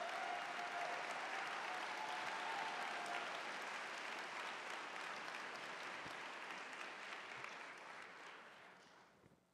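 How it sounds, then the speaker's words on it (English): Audience at a fall college convocation applauds in a sustained burst of dense clapping that holds steady and then fades away over the last couple of seconds. "Let's pause and celebrate Phil."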